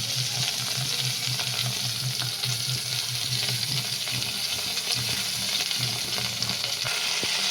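Continuous loud frying and sizzling of pumpkin in a pan, with a steady crackle throughout and a low hum underneath.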